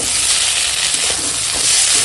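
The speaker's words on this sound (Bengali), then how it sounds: "একটু মশলা মধ্যে পেঁয়াজের লঙ্কাটা ভেজে নেবো" Onion and chilli fry in spices for a Bengali ridge gourd dish, giving a loud, continuous close sizzle and hiss with faint stirring scrapes throughout.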